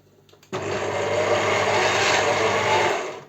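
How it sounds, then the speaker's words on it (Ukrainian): Electric meat grinder mincing zucchini for vegetable relish, a steady loud whirring grind that starts abruptly and runs continuously, then trails off slightly. "Спочатку ми мелимо кабачки."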